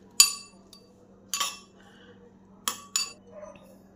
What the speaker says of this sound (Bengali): ভালো করে এগুলোকে চামচে করে আগে মিশিয়ে নিই।